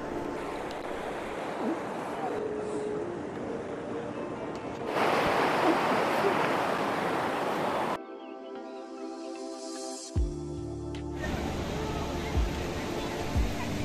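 Sea waves at Puri beach in the early morning wash and roar steadily against wind noise, with distant crowd murmur and some voices as the sound shifts between different shore recordings.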